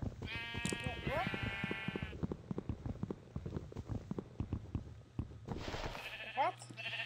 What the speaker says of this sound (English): Hello, sheep. Good, we got some sheep.